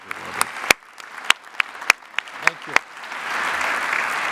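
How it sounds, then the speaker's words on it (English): At a robotics awards ceremony, a few sharp, spaced claps ring out first and then swell into fuller audience applause that continues to the end. "Let's have a final round of applause for all of our previous Engelberger."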